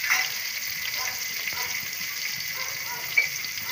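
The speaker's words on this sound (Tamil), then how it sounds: "அந்த வெங்காயம் வந்து ப்ரவுன் கலர்ல வர வரைக்கும் நம்ம வந்து வதக்குவோம்" Onions frying in oil over low heat for a mutton bone and butter bean tamarind salna, a steady close hiss with a faint, even crackle and a small clink near the end.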